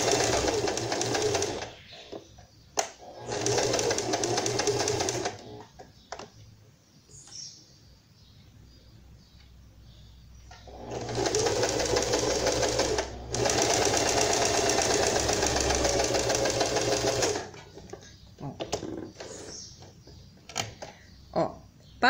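A sewing machine runs red thread through red fabric for Barbie doll clothes. It whirs in two long steady bursts, with short stops and small handling clicks between them.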